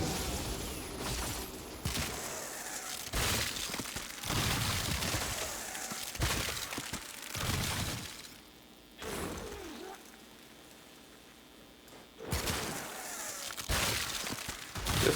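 Zymos pistol shots in the game Warframe, fired in a few heavy bursts with sharp cracks and mechanical clatter, separated by brief lulls, loud and close with no talk.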